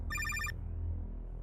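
A telephone bell gives one short, bright trilling ring over a low steady hum, with no voices.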